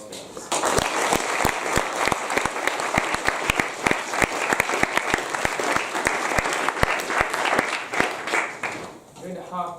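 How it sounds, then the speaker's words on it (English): An audience applauds debate speakers in a university debating chamber with steady, loud clapping that runs almost the whole time, sharp individual claps standing out before it trails off at the end. "Can I just ask for one last round of applause, please, for all our speakers?"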